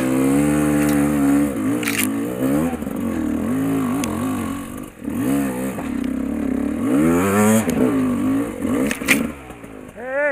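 Enduro motorcycle engine revving loudly and close on a muddy after-rain trail, with repeated rising and falling throttle blips over a steady running drone, no talk.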